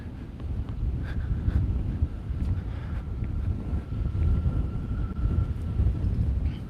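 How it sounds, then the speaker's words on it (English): Low, rumbling wind buffeting a microphone, a constant gusty roar with irregular swells and no voices. "God, it's really windy right now."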